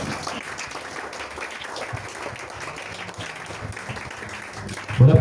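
A church congregation applauding during a French-language sermon, a steady wash of many hands clapping that continues throughout and swells into a louder burst at the very end.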